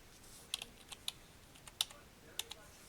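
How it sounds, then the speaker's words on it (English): Sparse, crisp keystrokes tapped on a computer keyboard, about eight isolated clicks spread unevenly over a few seconds, quiet and close with no talking. "So I'm using the keyboard to nudge again."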